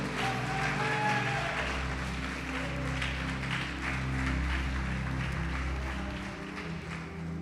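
Congregation in a church applauding the Lord, a sustained even patter of many hands clapping over a steady low hum, continuing without a break.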